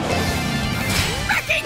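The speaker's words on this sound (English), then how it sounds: "Then we'll need to do about 4 smashes!" A loud cartoon smash effect plays as tacos are smashed in an animated children's show, a single crashing hit over busy background music.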